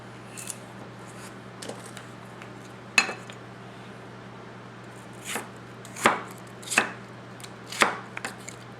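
Tojiro ITK 240mm kiritsuke gyuto push-cutting celery thinly on a cutting board, a quiet series of crisp knife taps against the board, sparse at first then several in a steady rhythm, close and clear.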